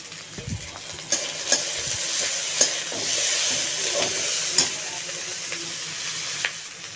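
Vegetable Manchurian sauce with tomato fries in a pan at close range, giving a steady sizzle broken by sharp clinks and scrapes of stirring every second or so, with no voices.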